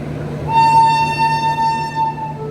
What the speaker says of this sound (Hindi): ये सामने की तरफ एक ट्रेन आ रही है